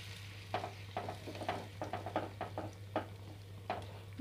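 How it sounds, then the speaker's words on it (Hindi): Milk is poured into a roasted barfi mixture in a pan and stirred over low heat, giving a steady sizzle with soft, regular scraping strokes about every half second, fairly close and with no talking. "अब हम इसमें ये अपना दूध डाल देंगे और ये हमारा 1/2 कप दूध था तो इसमें हम ये डालकर इसको चला लेंगे"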